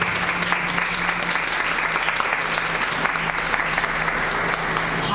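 Audience applause after a sermon at a church service, a dense, even wash of many hands clapping that stays loud and steady throughout, with a faint sustained tone underneath.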